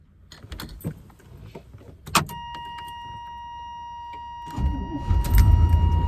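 A car engine cranking and catching after a new ignition switch is fitted, with keys and clicks first, a steady warning chime, then the engine firing up loud and running rough.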